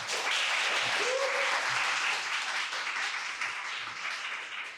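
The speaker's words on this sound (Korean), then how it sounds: "다시 한번 뜨거운 박수 부탁드리겠습니다" Steady applause from a seminar audience after a talk on large-scale generative AI, an even wash of clapping with a faint voice briefly rising early on.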